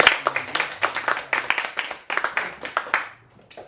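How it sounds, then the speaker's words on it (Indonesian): A classroom of students claps for a classmate, a quick rhythmic burst of many hands that fades out after a few seconds. "beri tepuk tangan dulu buat Cipa"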